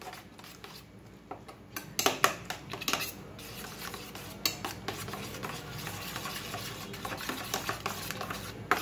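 Powdered milk stirred into a little hot water for malai kulfi, a spoon scraping and clinking against the pot in an irregular run of close, sharp taps over steady kitchen background noise, with no talk.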